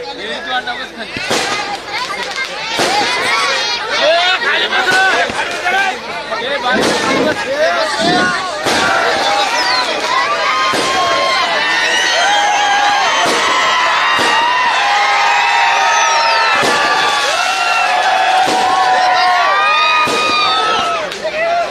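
Firecrackers burst in rapid, irregular bangs, loud and close, over a cheering crowd with whistles and voices at a political rally speech in Loha, Nanded.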